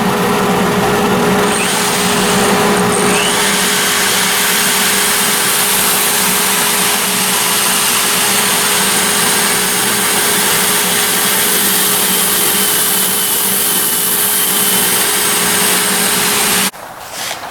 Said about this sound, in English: Turn on the dust collector, which is this back here.